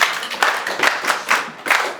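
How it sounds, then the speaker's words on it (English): Classmates clap for a student in a physics classroom, a handful of sharp, separate claps spaced about every quarter to half second, close and moderately loud with no talking. "Please clap for him."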